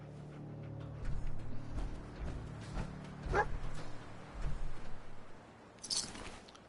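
Dogmeat, the dog companion in Fallout 4, gives a few soft barks and yips at a moderate distance over a low ambient game hum, with a brief high chime near the end.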